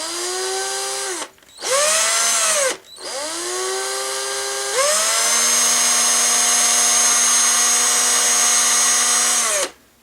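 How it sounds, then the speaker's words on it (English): A small power drill with a 1mm bit whines steadily at high pitch while drilling into the end of a Star Wars Y-wing model strut, briefly stopping twice before running continuously, close and loud. "I'm going to drill in with the 1mm drill bit"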